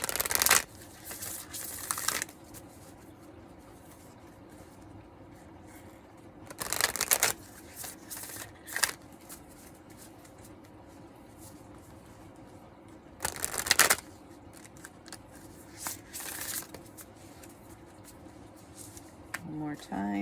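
Tarot cards being shuffled by hand in several separate bursts of crisp riffling and rubbing, close and quiet, with a person speaking softly between the shuffles.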